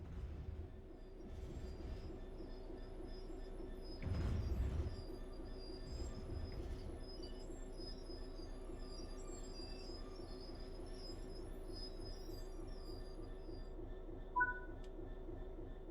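A train in the Train Sim World 3 game rolls and brakes with a low steady rumble and high metallic squeals, a heavier surge of noise near the middle and a brief chime toward the end.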